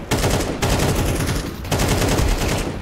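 Rapid automatic gunfire in Counter-Strike 2 on the Vertigo map, loud continuous bursts with a short break between two sustained volleys.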